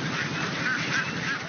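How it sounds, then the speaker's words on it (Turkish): A flock of ducks quacking and honking continuously as they parade across a road, a dense overlapping chorus of calls with steady background noise. "Ördeklerin geçit töreni trafiği durdurmaya yetti."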